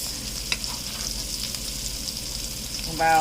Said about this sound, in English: and my lemon, and letting that fry up in the pan with it